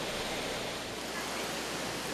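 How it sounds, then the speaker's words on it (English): Rainbow Falls, a waterfall in the Watkins Glen gorge beside the Gorge Trail, where walkers pass behind the falling water. It makes a loud, constant roar of rushing water that fills the whole stretch without a pause. "This is the second waterfall that you must walk behind if you are to continue ahead on the Gorge Trail."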